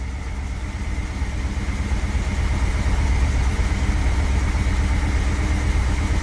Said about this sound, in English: Looks like it's slowly bringing the idle down.